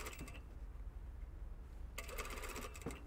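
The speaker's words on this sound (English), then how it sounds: "And I'm stitching down the center of those 2 rows of stitching." A sewing machine stitches a puff sleeve into the armhole of a shirt, running in two quick rattling bursts, one short at the start and a longer one later, with a quiet gap between.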